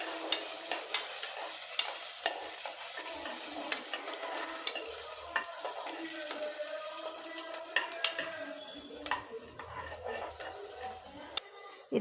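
Garlic cloves and small shallots roast in a hot pan, frying with a steady close sizzle while a utensil stirs and scrapes against the metal in repeated sharp clicks.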